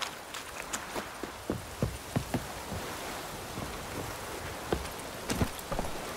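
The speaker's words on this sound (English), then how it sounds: "Looks like rain." Steady rain in The Witcher 3 makes a soft, even hiss throughout, broken by scattered light thuds and taps.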